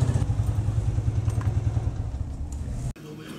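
Motorbikes idle and rumble close by as they are moved at a roadside picnic spot near Lahore, giving a low, pulsing engine throb that cuts off sharply near the end. People talk over it.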